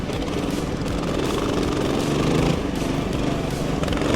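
A racing lawnmower engine running hard on a track, a loud, rough, steady drone held close throughout the short stretch.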